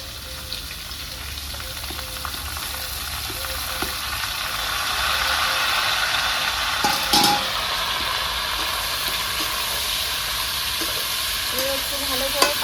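Khero and potatoes stir-frying in a pan, a steady sizzle and hiss with occasional scrapes and knocks of the spatula, close and continuous.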